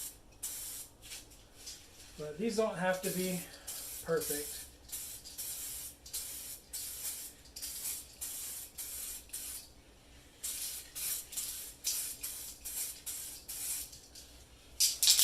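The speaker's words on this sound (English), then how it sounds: "this is a horrible place to be spray painting with all the debris" Repeated short hissing bursts from an aerosol spray can painting Ram 2500 wheels, sputtering and clumping in quick succession amid debris, with a brief spoken remark partway through.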